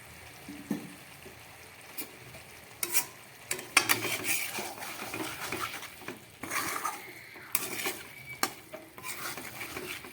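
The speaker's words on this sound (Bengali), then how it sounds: "এবার এর মধ্যে আমি এই মাছের মাথাটা দিয়ে দিচ্ছি" A cooked fish head gets stirred into fried cabbage in a pan for a Bengali bandhakopi dish, with intermittent scraping, clattering utensil strokes against the pan over a soft sizzle, close and fairly quiet.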